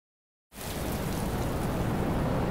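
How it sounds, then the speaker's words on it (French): Hail falls in a dense, loud rattling roar that starts abruptly after a moment of silence and holds steady, with no voices. "La grêle."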